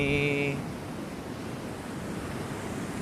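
Strong wind gusting across Sai Kaew beach in Phuket, a steady broadband roar with surf in it, fairly loud and constant throughout, with a brief tonal sound at the very start.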